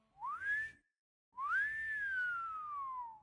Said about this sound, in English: a long, slow wolf whistle pierced the air